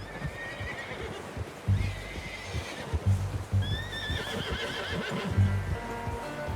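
A horse whinnies in a high, wavering neigh over a busy bed of hoof clops and low rumbling in Red Dead Redemption 2, with a second whinny following a moment later.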